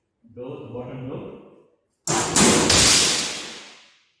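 The bottom door of a shatter test apparatus, loaded with minus 20 plus 10 mm iron ore, swings open with a loud sudden clatter and rush of falling ore that rings out and decays over about two seconds, following a quieter low rumble.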